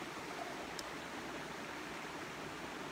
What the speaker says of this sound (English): we're going to pour ourselves a nice glass of water